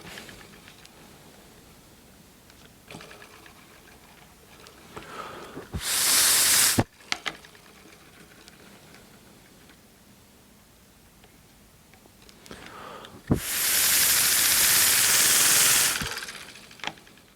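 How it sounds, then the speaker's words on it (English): A small model steam engine chuffs with soft rapid rhythmic ticking, broken twice by long loud bursts of hissing steam. "I like the sound of this engine."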